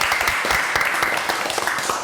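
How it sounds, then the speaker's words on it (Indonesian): Short burst of dense, close clapping from a small audience applauding a guest during an informal talk, steady and fairly loud with no words over it. "tepuk tangan dong yang melihat buat Tix"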